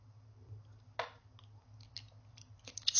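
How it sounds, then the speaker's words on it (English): Someone chews a tiny water jelly close up, with a brief squishy burst of wet mouth sounds and a few soft smacks over a low steady hum. "tiny water jelly,"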